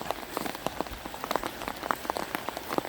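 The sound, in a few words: rain falling on rice field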